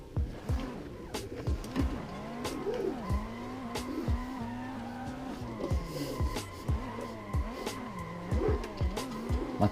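A car in the Assetto Corsa racing game drifts at Ebisu Minami, its engine revving up and down in repeated swells under continuous, fluctuating tire squeal, loud and close throughout.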